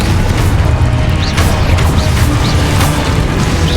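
Confringo blasting spells burst repeatedly in Hogwarts Legacy gameplay, loud booming explosions and crashes piling over a dense, continuous roar of battle noise.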